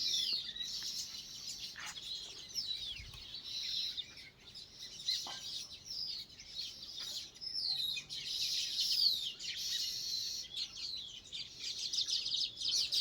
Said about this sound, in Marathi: तर हा आवाज सगळा सुगरणींचाच